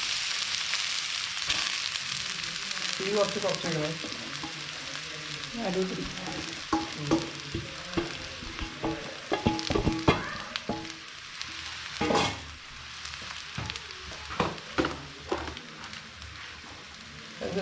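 Drumstick leaves hit hot coconut oil with mustard seeds in a pan while a jackfruit-seed thoran is cooked. A constant crackling sizzle is broken by scraping stirs, and a voice speaks briefly.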